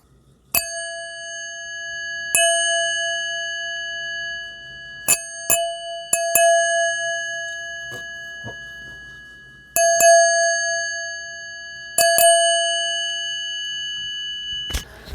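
Thin hard drive platters struck one at a time ring out like chimes, a series of clear, sustained metallic tones with long decays, several strikes spaced irregularly and some in quick pairs.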